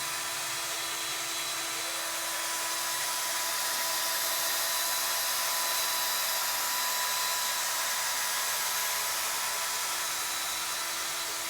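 A power sander smooths a wooden chair dowel spindle, throwing off sawdust: a steady high-pitched whirring hum with a faint tonal whine, held continuously at moderate level with no talking.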